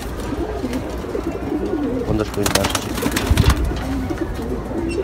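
Pigeons coo softly at a pigeon farm. Their low murmuring continues under a voice and background bustle, along with a few sharp clattering knocks.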